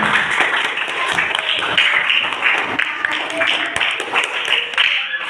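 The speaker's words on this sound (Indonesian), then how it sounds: "Beri tepuk tangan." A seventh-grade class claps hands together in a classroom, a busy, fairly loud patter of many claps sustained over several seconds with some voices mixed in.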